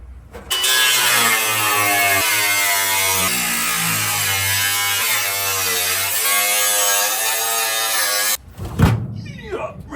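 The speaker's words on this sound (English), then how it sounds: "see if we can not blast ourselves with dust the very first time we turn the blower on" A car heater box blower fan, fitted during a C20 Crown Vic swap, spins up and runs as a loud, steady whirring drone with a motor hum for about eight seconds before cutting off, followed by a brief rattle.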